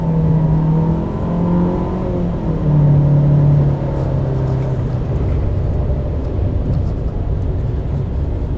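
Renault Oroch Outsider pickup fitted with a Mercedes turbo engine accelerating along a straight, a loud steady engine drone with rising and falling tones as the gears shift, heard from inside the cabin.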